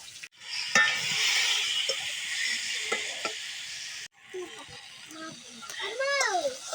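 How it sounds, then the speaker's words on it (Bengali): Shrimp frying in a pan as they are stirred, a steady sizzle under bursts of nearby talk, including a voice, with a short break midway. "মাছ ভাজি করতেছি, চিংড়ির মাছ"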